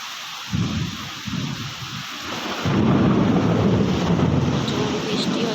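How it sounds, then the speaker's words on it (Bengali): A heavy thunderstorm rolls on: loud, deep thunder rumbles build over a constant roar of heavy rain, growing denser and more intense in the second half. "প্রচুর বৃষ্টি হচ্ছে"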